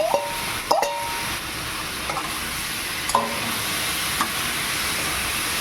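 Pointed gourd pieces go into a hot pan for a mixed vegetable curry, and a steady frying sizzle follows, with a few sharp clatters of the pieces and utensil landing near the start and at intervals.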